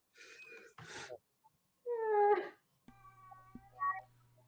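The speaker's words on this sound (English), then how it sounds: "Lou, you hear a very mild yelling just coming through the walls. Sounds like cat" Mild, muffled yowling from a cat carries through the walls of a room, coming in a few separate wavering cries with silence between, while a voice also speaks nearby.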